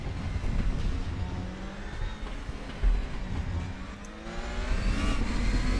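A DTM 2020 race car roars around Spa-Francorchamps in a sim racing game, its engine note rising and falling through revs and gear changes, loud and continuous with no voices.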